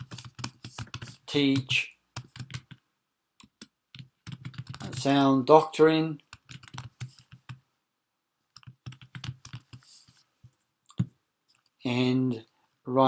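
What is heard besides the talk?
typing a title on a computer keyboard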